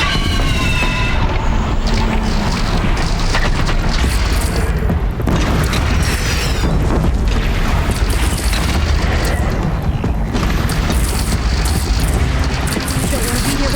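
Heavy cannon blasts in the video game Horizon Zero Dawn, fired from a platform cannon amid a dense, constant battle din of booming impacts, with voices heard intermittently.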